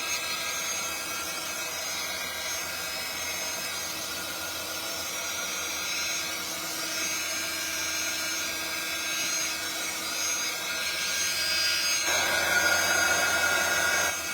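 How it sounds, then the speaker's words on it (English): A handheld craft heat dryer blows steadily over a freshly inked craft sheet, a loud continuous whirring roar that runs unbroken from start to finish with no talking. "Sorry about the noise of the dryer."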